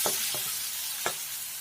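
Chopped tomatoes frying with onion in hot oil for an egg curry, a steady close sizzle broken by a few soft scraping stirs of the spatula, no voices.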